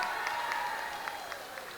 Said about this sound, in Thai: ขอเสียงปรบมือกับท่านเสริมศักดิ์พงพาณิชย์ครับ